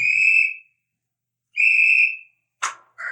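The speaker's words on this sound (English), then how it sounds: "When I blow this whistle, you're supposed to stop." A shrill whistle is blown twice in long blasts with a silent gap between, followed by a sharp thud and a brief shout.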